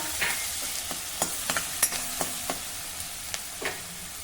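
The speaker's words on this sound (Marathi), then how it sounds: "तेल गरम झालं की त्यामध्ये ठेसलेलं लसूण आणि हिरवी मिरची घालूया" Crushed garlic and green chilli sizzle steadily in hot oil, with a light crackling hiss and scattered sharp clinks and scrapes of stirring in the pan.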